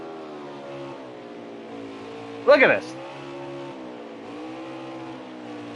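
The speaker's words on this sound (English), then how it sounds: "Just hearing the rev and derev of each and every one of these machines here" Race cars rev and ease off in an online racing video game at Atlanta, layered engine drones rising and falling with a sharp burst of tire squeal or impact midway, while a commentator talks over it.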